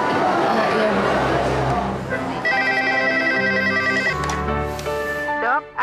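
A telephone rings in an office, a bright repeating electronic ring pattern rising over a busy background of noise and music, fairly loud.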